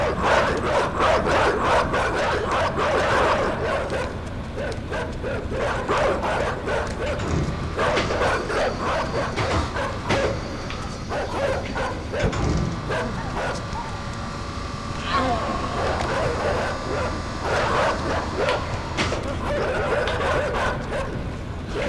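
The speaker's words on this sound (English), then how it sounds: "Okay, dogs. Okay, you know what? You can just bark." Dogs barking in a game scene, repeated yips and barks scattered through the clip, mixed with dense game sound and a voice talking over it.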